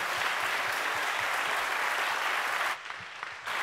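Loud, dense applause fills a hall at a town-hall style question session, sustained and close for nearly three seconds, then drops suddenly to a thinner, quieter clapping before swelling back briefly at the end.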